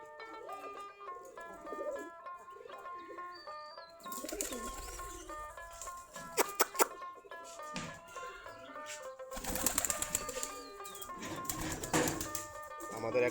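Local Giribaj pigeons coo and chirp around their coop, a soft steady cooing with scattered bird calls, broken by sharp clattering bursts and some nearby talk.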